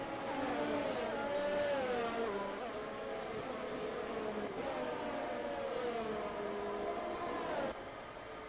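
Race cars circling behind the safety car in a Belgian Grand Prix racing video game, a steady droning engine whine with gear shifts rising and falling in pitch, continuous and moderately loud, dropping off abruptly near the end.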